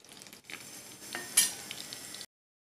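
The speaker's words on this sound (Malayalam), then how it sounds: "ഇനി ഇത് ഫ്രൈ ചെയ്തു ആയ കട്ട്ലറ്റ് ഒന്ന് മറിച്ചിട്ട് കൊടുക്കുക" Moringa leaf cutlet frying in a pan and being flipped over, with a soft sizzle, a few stirring scrapes and light utensil clinks close by for about two seconds before cutting off.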